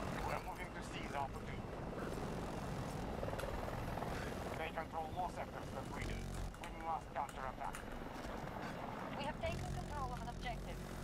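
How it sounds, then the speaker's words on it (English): An attack helicopter in Battlefield 2042 gameplay gives a steady, loud rotor drone and engine roar throughout, mixed with game noise while people talk over it. "I think they got an attack chopper going for C1 right now."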